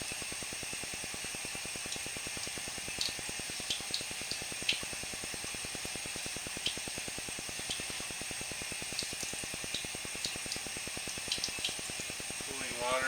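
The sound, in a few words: cooling water flowing in sewer pipe over camera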